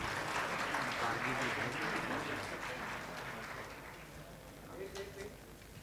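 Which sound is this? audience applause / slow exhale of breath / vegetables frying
audience applause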